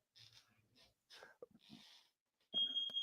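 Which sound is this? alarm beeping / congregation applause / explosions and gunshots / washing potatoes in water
alarm beeping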